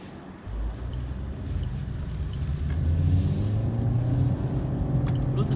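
All New Suzuki Swift, Thai spec, accelerating on the road, heard from inside as a steady low engine and road rumble that builds slightly and holds, with no one talking over it.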